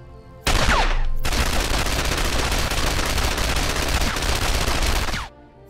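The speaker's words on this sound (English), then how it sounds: "If you like that very sleek wooden type of sniper rifle" Sniper rifle gunfire in Star Wars: The Old Republic, a sleek wooden-style rifle: one sharp shot, then a loud sustained burst of rapid fire lasting several seconds before cutting off, with no talking.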